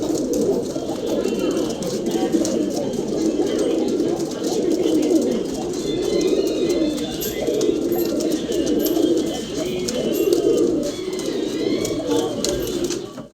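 Pigeons, including a female, coo steadily in a loft, a dense, continuous murmur of low throaty calls that holds close and fairly loud throughout.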